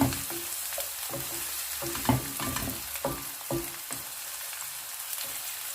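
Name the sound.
garlic sautéing in a pan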